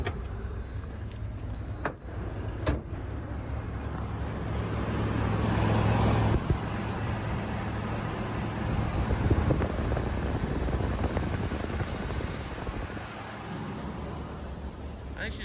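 A carbureted RV engine with a broken manifold bolt and an exhaust leak idles steadily, a low, continuous rumble that runs the whole stretch, slightly rich, with outdoor wind noise around it.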